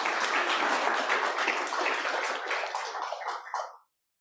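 A meeting audience in Casper applauds the workforce center staff with dense, steady clapping that thins in the final moments and then stops abruptly into silence.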